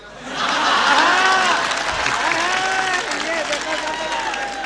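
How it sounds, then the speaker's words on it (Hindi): An audience at a Hindi poetry recitation clapping loudly and steadily, with the broad applause swelling in then holding, while voices carry over it. "जो ज्यादा ताली पीटेगा हम होंगे आभारी"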